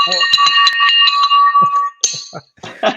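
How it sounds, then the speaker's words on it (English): A bright, ringing victory bell strikes repeatedly in quick succession, loud and close, with short pauses and a couple of later rings. "Where's that beautiful victory bell?"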